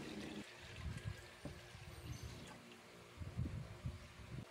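Water, one liter of it, pours into a saucepan of buko pandan jelly powder and sugar, a close trickling splash that rises and falls in uneven bursts with a short pause midway.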